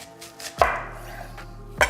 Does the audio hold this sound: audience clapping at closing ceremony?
no